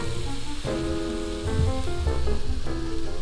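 Chopped onions sizzle and crackle in a hot pan as they are stirred, a steady dense fry with a few scraping stir sounds and a slight swell midway through.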